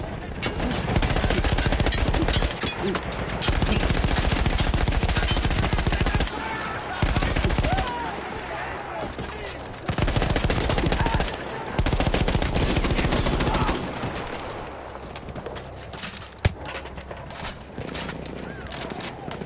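Gunfire in the World War I shooter Battlefield 1: loud bursts of automatic fire and rapid shots in clustered volleys, broken by short lulls, with a horse heard briefly amid the battle.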